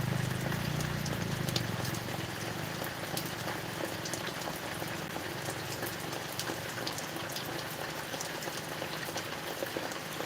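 Steady rain pours outdoors during a farm couple's live broadcast, a dense, even hiss of drops on surfaces that holds at a constant level for the whole stretch, with no voices over it.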